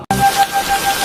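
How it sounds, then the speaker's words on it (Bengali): Cartoon rain sound effect: a short burst of rain patters densely and evenly right after a brief silent gap at the start. "এই যে বৃষ্টিতে ভিজে ভিজে যাচ্ছি"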